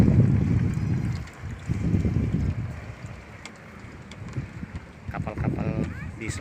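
Boat engines and water noise along the Tembilahan–Guntung river route, a steady low rumble with wind buffeting, while someone talks over it in bursts.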